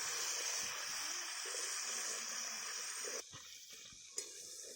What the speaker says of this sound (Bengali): সব শুদ্ধ মশলাটাকে খুব ভালোভাবে কষে নিতে হবে